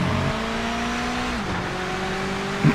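Race car engine in the Project Motor Racing video game, a steady loud drone with a harmonic pitch that drops midway as it shifts, and a brief squeal-like burst near the end, with no voices.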